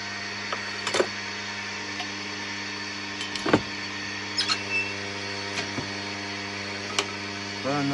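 A wooden medieval soprano recorder being turned on a lathe while its mouthpiece is chamfered, heard as a constant machine whine and hum with short scraping tool contacts scattered through it.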